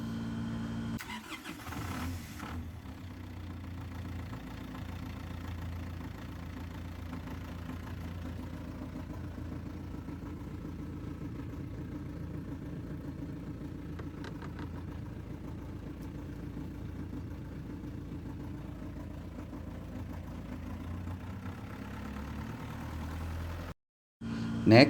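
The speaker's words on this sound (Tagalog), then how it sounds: "we need to run the generator for at least 3 to 5 minutes to warm up the engine oil for easier to drain" An Isuzu diesel engine generator runs at a steady idle for the whole stretch, a constant low drone with little variation before cutting off abruptly near the end.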